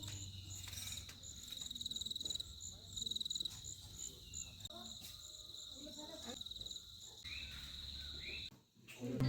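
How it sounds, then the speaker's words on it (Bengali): Crickets chirp in a steady high-pitched pulsing drone among trees and plants on a trip to Sittong, faint and continuous with other insect and bird sounds around them. "আর জাস্ট এই ঝিঝি পোকার ডাকটা তোমরা এনজয় করো"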